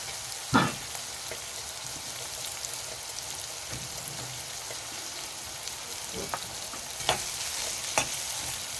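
Fava beans being stir-fried in a pan: a steady soft sizzle with occasional sharp clinks of a utensil against the pan, fairly quiet and with no voices.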